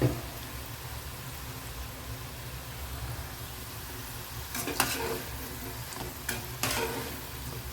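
Medhu bonda, the village tea-shop kind, frying in hot oil with a steady broad sizzle throughout, plus a couple of brief louder bursts of crackle or stirring near the end; no talking.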